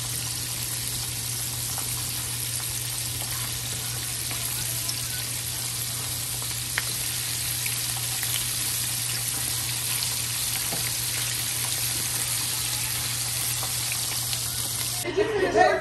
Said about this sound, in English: And now I'm cooking my shrimp myself